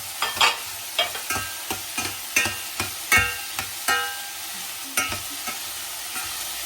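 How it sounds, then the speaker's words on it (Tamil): Whole spices, cinnamon, cardamom and cassia, with green chili being stirred in hot oil while making paneer curry, giving a series of sharp, close spoon scrapes and clatters every half second or so over a steady soft sizzle, with no talking. "பட்டை, ஏலம், கருவா, இந்த பச்சை மிளகாய் அதையும் போட்டு வதக்குவோம்"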